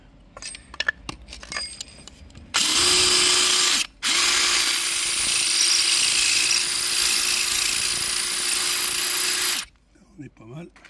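A power drill bores a small pilot hole while fitting an Abrisud shelter, running loud and close in a steady whine with a brief pause partway, after some light tool clatter and before a quiet ending.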